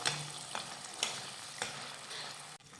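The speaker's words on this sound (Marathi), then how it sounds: "आता हे वाटण साधारण चार ते पाच मिनटं परतून घेऊयात" Masala paste sautéing in oil in a pan for matar paneer, a steady sizzle with a few sharper scraping stirs at intervals, close and alone without talk.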